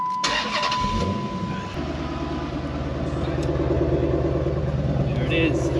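A Dodge Magnum SRT with stock exhaust cranks and fires up with a loud burst, then settles into a steady, rumbling idle close by.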